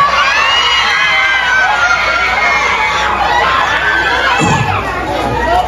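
A large crowd at a mayoral campaign rally in Pasig shouts and cheers loudly and continuously, a dense wall of voices with excited high-pitched yells and no pauses.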